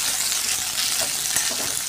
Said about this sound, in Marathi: तिला पण असं छान तेलामध्ये परतवून घेणार आहे।